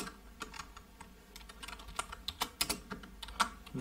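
Close, quiet typing on a computer keyboard, an uneven run of crisp key clicks that speeds up toward the middle, heard alone without talk.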